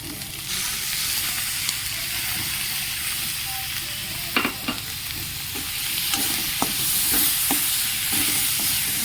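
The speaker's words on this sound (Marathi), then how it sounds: "ह्या टायमिंगला बारीक गॅस करूया आणि वाटण टाकूया." Ground masala paste sizzling steadily in a pan over low gas, a close continuous frying hiss with scattered light scrapes and taps of stirring.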